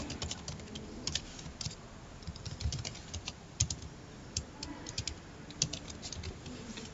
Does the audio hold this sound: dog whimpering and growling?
no